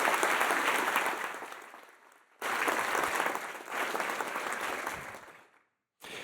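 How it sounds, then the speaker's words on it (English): A university crowd at a state-of-the-university address gives the housing team a hearty round of applause, the dense clapping coming in loud bursts with abrupt cuts and gaps between them. "So how about a round of applause for Art and Troy and all of the housing team"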